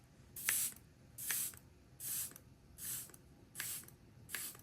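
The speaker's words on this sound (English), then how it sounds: "I think the sprayer on the Fenty Beauty is actually better. It has a finer mist." Fenty Beauty setting spray is spritzed six times in a steady rhythm, each a short, close, fine-mist hiss with quiet pauses between, no voices.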